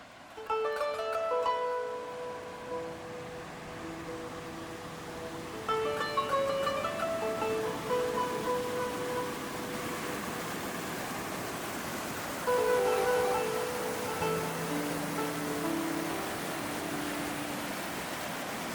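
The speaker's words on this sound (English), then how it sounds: "The river is very loud" A mountain river near Mestia, Georgia, rushing with a constant broadband roar, with soft melodic music playing over the water noise throughout.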